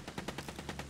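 Fast, evenly spaced gunshots from a Battlefield 1 attack plane strafing a tank turret at Zeebrugge, a loud rhythmic burst of about nine rounds.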